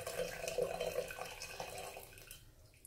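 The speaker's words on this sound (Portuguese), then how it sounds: "Vou dar bastante água que tem aqui mesmo." Water poured into a floor drain fitted with a PET bottle, a faint close splashing and trickling flow that fades out near the end, with no one speaking.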